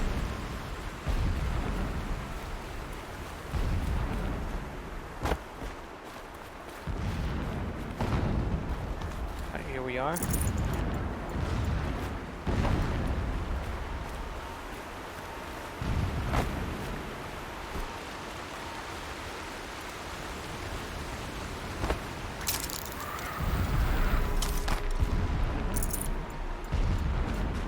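Distant explosions in the video game Horizon, deep rumbling booms rolling in at intervals beneath someone talking over the gameplay.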